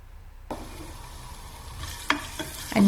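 Cumin seeds, ginger and garlic hit hot oil in a pot with a sudden sizzle, followed by a steady crackle and a few sharp stirring clatters near the end.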